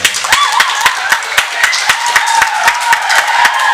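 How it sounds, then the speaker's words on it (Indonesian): An audience claps in rhythm at a fifth birthday celebration held in a restaurant, a steady run of loud, close claps that goes on without a break. Voices murmur faintly underneath. "tepuk tangan untuk Anda semua"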